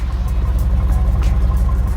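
A Cadillac Allante engine, recently recovered from flood damage, idles smoothly with a steady low, throbbing exhaust note, close and even for two seconds.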